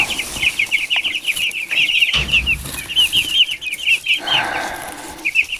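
Dense, rapid high-pitched cheeping from many broiler chicks, continuous and fairly close, with brief louder bursts and no talking.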